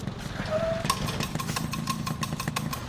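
Motorcycle engine of a broken-down bike running with a steady, rough low rumble, close and continuous throughout, with a brief whine near the start.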